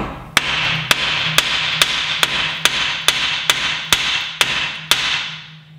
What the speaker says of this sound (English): get a hammer like this and hit the top part right here